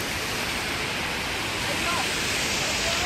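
Mountain spring water rushes steadily beside a mountain road near the Neelum River in Kashmir, a loud, dense, unbroken roar with no pauses.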